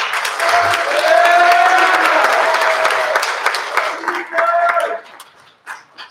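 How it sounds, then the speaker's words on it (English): An audience at a Combs High School spring orchestra concert claps for graduating seniors, a steady crowd of hands lasting several seconds while a voice speaks over it, then thinning out and fading toward the end. "we're going to clap around"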